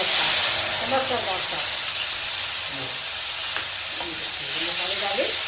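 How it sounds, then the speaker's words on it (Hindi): Carom seeds (ajwain) crackling in hot oil, a steady close sizzle with light stirring and small pops, over faint background tones, no clear voices. "अब अजवाइन हमारी तड़क गई है, ये देखिए।"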